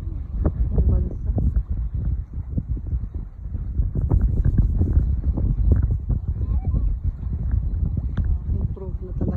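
Strong seaside wind buffets the microphone in continuous low, gusty rumbles at Azuela Cove in Davao City, loud and close with no break.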